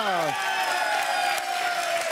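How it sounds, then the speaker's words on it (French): Studio audience applause and cheering welcome guests on a French dating game show, a steady wash of clapping that runs the whole time, with a voice briefly over the start. "On vous applaudit et on accueille Thierry et Agnès."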